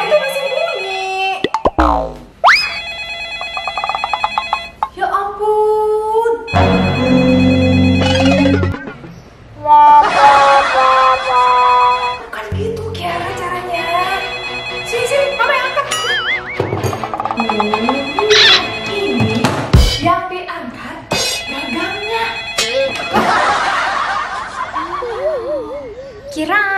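A telephone rings on and off without being answered in an Indonesian comedy parody drama, the tones recurring through much of the stretch under steady talk and occasional laughter.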